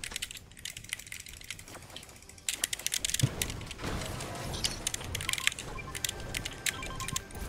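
Computer keyboard typing during a Fortnite stream on PC, a fast, close series of clicky keystrokes that starts sparse and quiet and then becomes denser and louder over steady game background noise.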